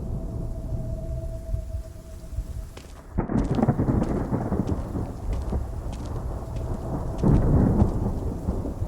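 Loud thunder cracks and rumbles over steady rain at night, the storm building into a heavy downpour as the noise swells and stays dense throughout.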